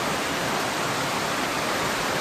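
Heavy tropical downpour in the Philippines, a dense, steady roar of rain pouring down without letup, loud and close with no voices.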